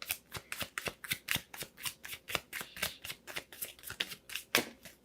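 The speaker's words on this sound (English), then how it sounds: "Let me just pull one more card, okay?" Tarot cards being shuffled in a quick, steady rhythm of crisp riffling bursts, about three per second, close and clear with no talking.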